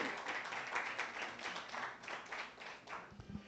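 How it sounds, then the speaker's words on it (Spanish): Congregation applauding in church, dense broadband clapping from many hands held steady for the whole stretch, fairly distant and moderate in level with no clear voices on top. "denle un fuerte aplauso al Señor"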